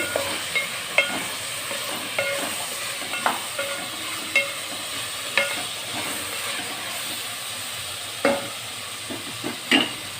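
Onions fry in a pan with a steady sizzle, punctuated by periodic stirring scrapes and clicks at irregular intervals, close and moderately loud, no voices.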